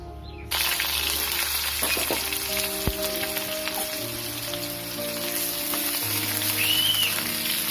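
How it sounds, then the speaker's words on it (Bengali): Potato pieces fry in a pan of oil for shrimp and jackfruit, a sudden onset of constant sizzling hiss that stays loud and even, with occasional light clinks. "এটাকে কিছুক্ষণ ভালো করে ভেজে নিতে হবে।"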